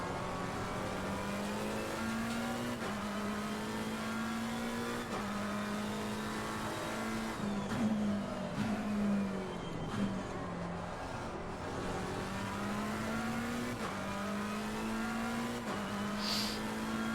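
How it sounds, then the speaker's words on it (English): McLaren race car engine in a sim racing game, a steady droning engine note that rises and falls with gear changes over about seventeen seconds, loud and continuous, with other cars audible around it. "this McLaren sounds nice"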